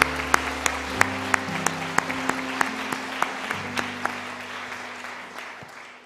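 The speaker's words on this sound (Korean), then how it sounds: "우리 하나님께 영광과 감사의 박수를 돌리시겠습니다" A church congregation at an early-morning special prayer meeting applauds steadily for several seconds, with sustained organ or keyboard chords underneath and rhythmic accent beats, the clapping gradually fading toward the end.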